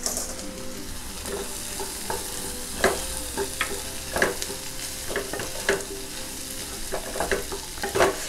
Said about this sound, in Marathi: आपण ते मटार घालूया.